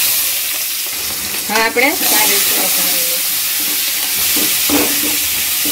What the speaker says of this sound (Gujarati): હવે આપણે મરચા અને મીઠા લીમડાના પાન નાખશું.